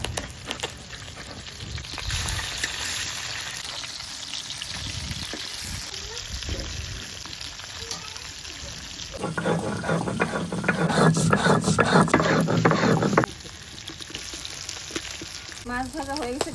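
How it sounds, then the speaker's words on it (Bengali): Rohu fish pieces fry in hot oil with a continuous close sizzle, swelling into a louder roaring spatter midway before settling back, with some faint background noise. "এদিকে মাছটা ভেজে নিচ্ছি"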